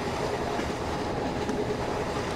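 A simulated Indian Railways Intercity Express with LHB coaches runs at steady speed on partial throttle, giving a continuous, full rolling rumble with faint clickety-clack from the wheels and no voices.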